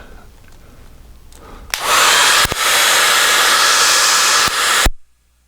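A hair dryer blows on a watercolor still-life painting, switching on abruptly into a loud, close, steady roar with a couple of brief dips, then cutting off sharply into silence.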